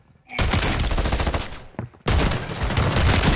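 Heavy, dense shotgun blasts in a tense video game firefight, loud and close, filling the clip in two long bursts separated by a brief gap.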